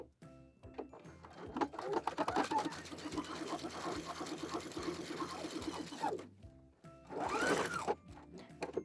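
A sewing machine runs a long continuous stitch along the long side of a fabric bow, a close, steady mechanical whir that stops briefly before a second short burst.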